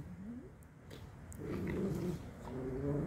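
A pit bull growls in low, rough bursts close by, rising into a steadier rumbling snarl, fairly faint overall, with small yips and rustling of play around it.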